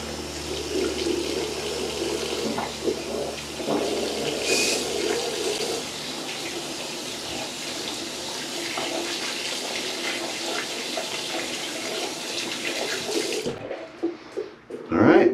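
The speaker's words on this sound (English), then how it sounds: "Now I gotta wash the baby oil off my hands." A bathroom tap runs steadily as someone washes baby oil off their hands, a close, continuous gush of water into a sink. It cuts off near the end, followed by a few handling knocks.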